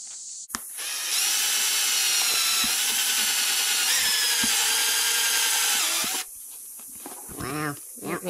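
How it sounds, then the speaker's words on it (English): A Harbor Freight step bit in a power drill bores through a plastic door panel on a third-generation Camaro, a loud, steady grinding whir lasting about five seconds, followed by brief voices and handling noise. "so I'm just using this Harbor Freight step bit, and we're gonna go one size too big"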